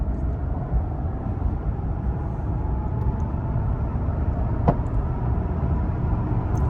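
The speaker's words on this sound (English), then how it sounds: "let's get some driving impressions here. Go over some bumps." Low, steady road and engine rumble heard inside a Lexus LS 460 with 96,000 miles, driving over bumps, with one faint sharp knock partway through and no talking.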